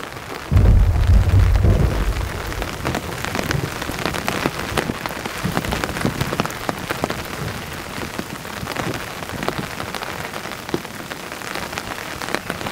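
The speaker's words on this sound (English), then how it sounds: "So we're getting rain, we're getting some thunder, but this is not a severe thunderstorm." Steady rain pours on a campsite during a passing thunderstorm in the mountains, with a brief louder burst near the start and a continuous dense patter throughout, low rumbles of thunder mixed in, no voices.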